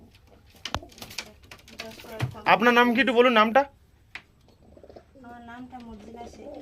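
Pigeons coo in a home pigeon loft of long-size Kaldum birds, with a loud burst of warbling coos followed by softer ones. People talk nearby in between.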